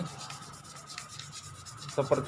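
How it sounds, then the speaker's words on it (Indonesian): Sandpaper rubs steadily back and forth over the rubber roller of a laminator to clean off black stains, a close, soft scraping that grows briefly louder near the end. "Ini amplas, kita gosok di bagian sini"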